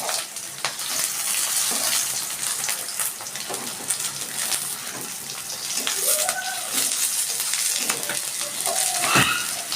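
White cumin seeds frying in hot oil beside green chillies in a pan, a steady soft sizzle with small crackles and occasional stirring or scraping, close and moderately quiet throughout.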